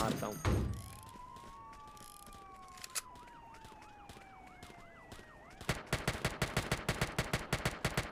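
Gunfire in the video game Grand Criminal Online, with wailing police sirens sweeping up and down before a rapid, loud burst of repeated shots breaks out near the end.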